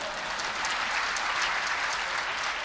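A church congregation claps steadily during a sermon, a dense, even wash of applause lasting a few seconds with no voices over it.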